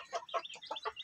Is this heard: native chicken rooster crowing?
yes